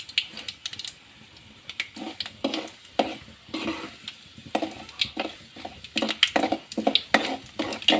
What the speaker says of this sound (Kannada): ಎಣ್ಣೆ ಕಾದತಿ. ಸ್ವಲ್ಪ ಸಾಸಿವೆ, ಜೀರಿಗೆ, ಅದಕ್ಕೆ ಸ್ವಲ್ಪ ಉದ್ದಿನಬೇಳೆ